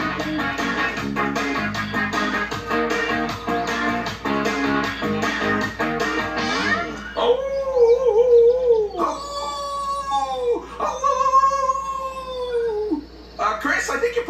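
A cartoon character's voice imitates a wolf howl in a series of long, rising and falling 'ah-woo' calls, loud and close, after busy music and voices in a woodland adventure scene.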